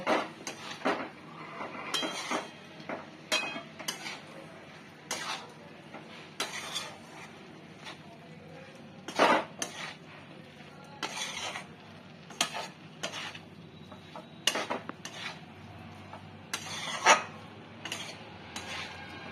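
A banana flower curry with grated coconut is stirred in a pan, with soft scrapes and occasional sharper clinks of the spoon against the pan at an unhurried pace, close by and fairly quiet, with no one speaking.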